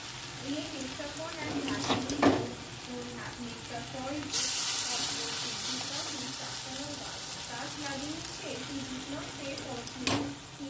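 Jackfruit fritters fry in hot oil with a steady, close sizzle and crackle. A few clinks of a utensil and occasional speech sit under the frying throughout.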